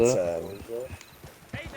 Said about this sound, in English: It's a horse race.